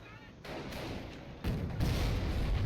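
In Company of Heroes, a Panzerfaust shot strikes a T-34 tank's front armour without penetrating: a sharp blast followed by a louder, heavy boom, both with rumbling low-end tails, set against steady battle noise.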